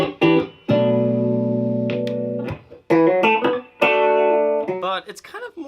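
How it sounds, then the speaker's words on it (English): Clean, jazzy electric guitar tone from a 47-year-old hornless Gibson SG, sustained chords and single notes ringing out loud and close, with brief pauses between phrases and no talking. "It's got a really nice jazzy tone to it for the cleans."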